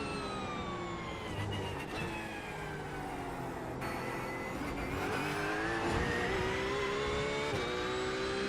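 Race car engine revving and accelerating in iRacing GT3 driving at Hockenheim, a loud steady roar with rising pitch sweeps as it climbs through gears, continuous throughout without talk.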